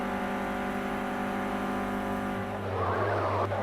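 Race car in the Clio Cup braking into the chicane at Watkins Glen, a steady buzzing engine note that drops in pitch as it slows, with a brief tyre scrub near the end.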